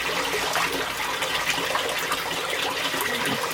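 Water gushing and splashing steadily as a fish is released into a koi pond, continuous and close with no talk.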